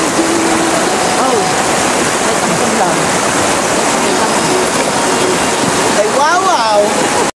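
River water rushes steadily over stones in a narrow, clear mountain stream, a loud continuous babbling wash, with birdsong chirping through near the end and speech-like sounds faintly mixed in.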